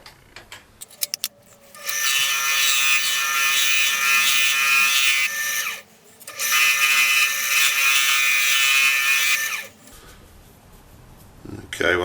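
A power tool trims the end of a wooden Christmas ornament on a lathe with a loud, steady whine in two long runs separated by a brief pause, with clicks and handling noise before and after.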